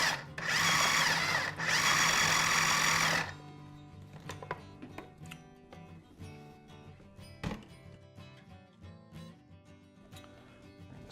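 Two loud bursts of a blender pulsing vinaigrette ingredients, blackberry and tarragon among them, under a snug lid, the second longer, followed by quieter clatter and handling noises.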